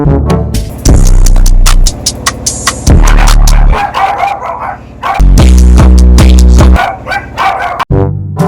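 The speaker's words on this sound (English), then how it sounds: "These dogs are harassing me." Dogs bark loudly and close by in a house, in several bursts of sharp repeated woofs separated by brief quieter gaps, with whimpering yips in between.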